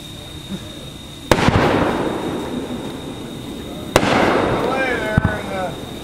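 Backyard fireworks show with regular 1 and 3/4-inch shells: two sharp, loud bangs a few seconds apart, each followed by crackling and sizzling tails, plus a smaller pop near the end, with people talking nearby.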